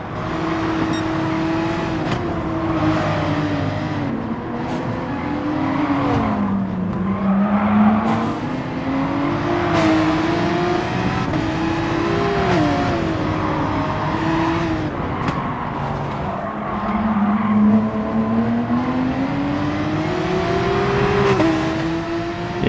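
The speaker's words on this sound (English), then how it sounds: "If you accelerate correctly out of the corner, then it really goes a long way on this long straight here." A race car in Gran Turismo Sport at Bathurst's Mount Panorama, without traction control, drones loudly and continuously, its engine pitch climbing and falling through gear changes as it accelerates out of a corner onto a long straight.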